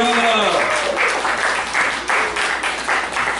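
An audience at a poetry open mic in Lakewood, Ohio, claps steadily for a few seconds, a close, dense patter following a brief voice at the start.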